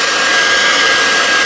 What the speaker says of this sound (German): Lass uns den Föhn probieren.